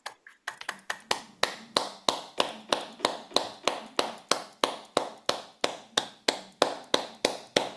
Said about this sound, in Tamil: எல்லோரும் சில வினாடிகள் கரகோஷம் எழுப்புவோம்.